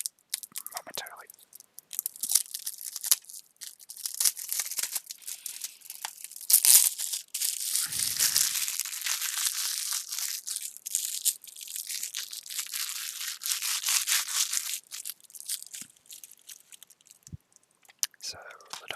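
Plastic wrap on a Doctor Who DVD case, The Dominators, crinkled and crackled close up in bursts of crisp rustling, with soft whispered speech.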